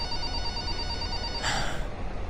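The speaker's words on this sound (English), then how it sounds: "Please tell me that's somebody's ringtone." A phone ringtone chimes for a second or so, fairly faint, then cuts off into a brief burst of noise.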